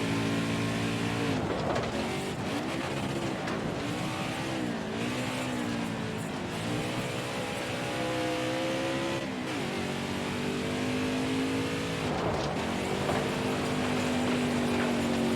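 NASCAR stock car engine from the NASCAR Heat 4 racing game, a loud steady high-pitched drone that rises and falls through gear shifts on track, with brief dips where the car lifts before pulling again.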